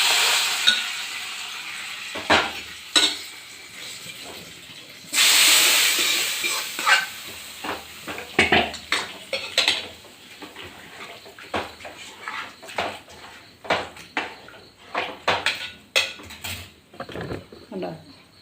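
Pieces of jackfruit (kadachakka) drop into a curry sizzling in a pan, giving a loud splash and hiss, then a run of stirring scrapes, clinks and bubbling.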